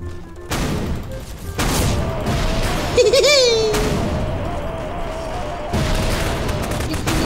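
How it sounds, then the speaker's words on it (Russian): Loud blasts and crashing bursts in the video game Garry's Mod, several broadband booms starting abruptly across the clip amid game noise and a brief voice-like squeal. "Что это за взрыв был вообще?"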